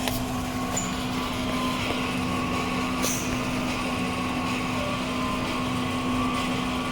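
The ink pump of a Focus Nebula 42F DTF printer runs during a strong head-cleaning cycle, giving a steady mechanical hum with a few faint clicks on top, unbroken throughout.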